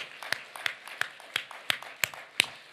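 A church congregation claps in steady unison, about eight crisp, evenly spaced claps at moderate distance, with no talking over them.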